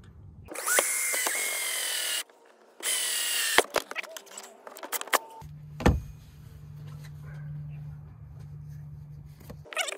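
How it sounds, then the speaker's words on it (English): A power drill fitted with a 1½-inch hole saw cuts through a plastic kayak hull, loud whining bursts that start and stop, followed by clicks, a thud and a low steady hum. "I'm gonna go ahead and just drill a hole straight through."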